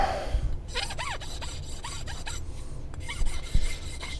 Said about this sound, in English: chalk up the file